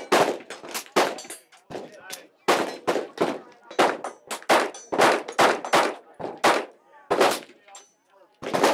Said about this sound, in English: So you could fire that gun pretty quickly